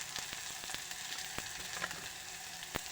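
Onions fry in a pan for a Kannada-style junka, giving a dense, steady sizzle with occasional sharp crackles and stirring taps, close and loud with no talking.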